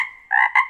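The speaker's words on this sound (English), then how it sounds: "He's a bullfrog." A bullfrog croaks three times in quick succession, loud and close, each call a short resonant twang with clear silence between.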